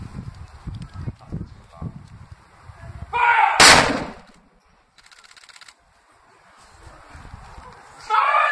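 A single loud blast from an 1861 Armstrong 110-pounder cannon booms out partway through, followed by a fading rumble, with scattered voices and background noise before and after.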